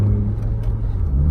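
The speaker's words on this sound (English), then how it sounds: "now I'll go through all the gears like normal" A manual-transmission car's engine hums and revs while being driven through the gears, a steady mid-pitched drone close by with slight rises in pitch.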